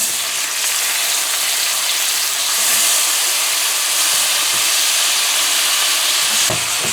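Potatoes frying in a pan with corned mutton, giving a loud, steady hissing sizzle throughout, with a few faint clinks and scrapes of a utensil near the end.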